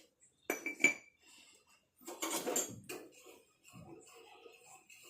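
A utensil stirs spaghetti with oil and salt in a metal pot, making scattered clinks and scrapes in short clusters with quiet gaps.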